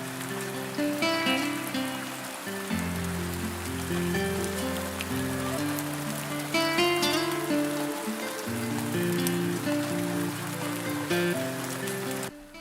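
Steady rain falls continuously, a soft hiss of drops running under loud, melodic music throughout.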